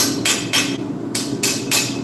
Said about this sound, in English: I put a couple little hammer marks in it, just give it a bit of texture